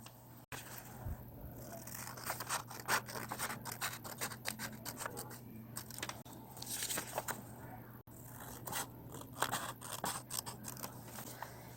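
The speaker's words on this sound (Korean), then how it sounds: "이 선과 이쪽 선을 가위로 잘라줍니다." Scissors cutting folded origami paper along creased lines for a Charmander and Squirtle bracelet, a close, quiet series of crisp snips and paper rustles, irregular in rhythm with brief pauses.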